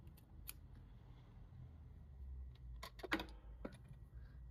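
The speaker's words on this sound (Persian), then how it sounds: "قیچیمو پیدا کردم" Scissors snip through crocheted yarn in a couple of quick, close metallic cuts amid soft handling noise, with a quiet room hum underneath and no talking.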